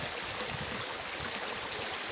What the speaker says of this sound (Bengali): এই হলো মিনি ঝর্ণা, অসাধারণ দেখতে লাগছে